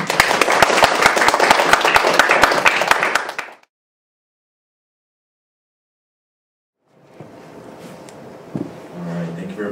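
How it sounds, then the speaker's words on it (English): An audience applauds to welcome two professors onto a discussion panel, dense claps for about three seconds before cutting to silence, then quiet room noise with a voice speaking. "please join me welcoming Professor Moon and Professor Kim with a big applause, big round of applause"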